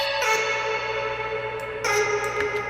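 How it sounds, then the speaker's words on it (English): A high, childlike vocal chop plays a short wobbling melody, heavily washed in reverb and echo, with a sustained synthetic shimmer throughout. "this weird vocal chop that sounds like a kid"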